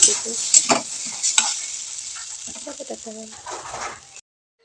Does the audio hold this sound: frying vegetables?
yes